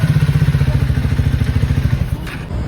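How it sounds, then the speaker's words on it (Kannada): A freshly serviced motorcycle, with its chain lubed and oil topped up, idles close by. Its single-cylinder beat thumps in a fast, even, loud rhythm, with a brief clatter near the end. "ಇದೊಂದು ಬೈಕ್ ಸೌಂಡ್ ಕೇಳಿ"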